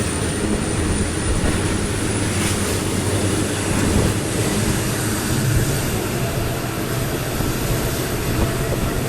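A passenger train leaves a station on the Ballari to Mantralayam route with a steady, broad rushing rumble of rolling wagons that holds at an even loudness throughout.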